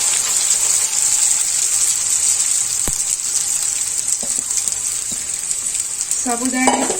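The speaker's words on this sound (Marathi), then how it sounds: "याच्यामध्ये हे शेंगदाणे थोडे परतवून घेऊया" Peanuts being roasted in a pan for sabudana khichadi give a steady, bright sizzling hiss with a few sharp clicks and scrapes of stirring, close and loud, then a brief clatter near the end.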